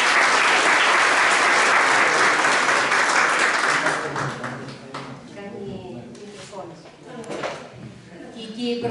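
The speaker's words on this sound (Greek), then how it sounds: "Καλώς ήρθατε με ένα ζεστό χειροκρότημα" Warm applause from an audience greeting an author at a Greek book presentation, loud and dense at first, then thinning out as a voice begins speaking over the fading claps.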